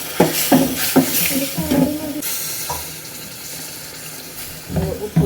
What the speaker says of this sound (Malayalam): കായം പൊടി, വിനാഗിരി ഒഴിച്ച് കൊടുക്കാം കേട്ടോ.